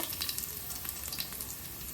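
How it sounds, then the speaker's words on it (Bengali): Chopped garlic fries in hot mustard oil with a steady crackling sizzle and small popping spatters, close and continuous, no voices. "তেলটা একটু গরম হয়ে গেলে কুচিয়ে রাখা রসুনটা দিয়ে দেব"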